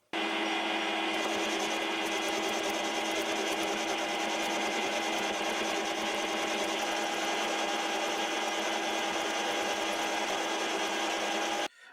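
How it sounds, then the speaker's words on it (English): A lathe turns down an old tractor part, giving a steady, continuous whirring drone with a rough metallic cutting hiss. It runs unbroken at an even level for nearly twelve seconds, then stops abruptly. "I finished turning the part down to size"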